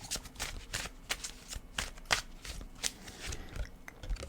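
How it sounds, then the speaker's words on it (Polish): Tarot cards riffle and slap together quickly during a shuffle, some spilling loose, with a dense run of crisp close flicks and taps that stays fairly soft throughout. "karty zaczęły się sypać, więc może być ciekawie"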